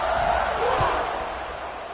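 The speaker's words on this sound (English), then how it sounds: "this crowd now ready to get behind them" Stadium crowd in NCAA 26 college football roaring as the teams line up for a kickoff after an extra point, a broad sustained cheer filling the space for about two seconds.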